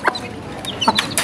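Aseel hens cluck in short, close bursts while eating feed outdoors, a few quick calls over a quiet background.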